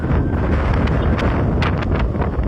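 Strong wind roars and buffets the microphone in a constant, loud rumble, with brief gusty bursts of hiss.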